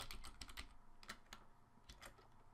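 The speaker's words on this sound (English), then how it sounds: "and I started typing on here" Typing on a computer keyboard, a quick run of close key clicks at an uneven rhythm, very faint and alone with no voices.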